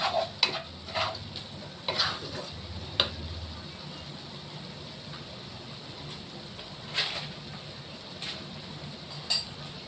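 Spices sauté quietly in a pan for biryani, a soft low sizzle broken by scattered spoon clinks and scrapes against the metal.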